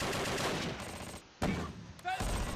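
Mortar fire in the video game Close Combat: Last Stand Arnhem, a dense rumble of explosions and gunfire with a couple of sharp blasts, a voice speaking faintly underneath.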